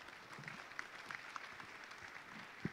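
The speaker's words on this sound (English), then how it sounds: "A big round of applause for our panelists." Faint, distant applause for the panelists at the FEKDI 2023 economic conference, a soft, continuous wash of clapping from a large hall audience.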